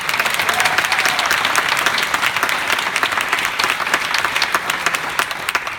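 A crowd at a political rally claps loudly and continuously, dense overlapping applause holding at an even level from start to finish.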